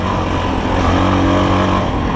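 A Tekken 250 motorcycle with a Loncin engine running while ridden, giving a loud, close, steady engine drone with strong low harmonics and no talking.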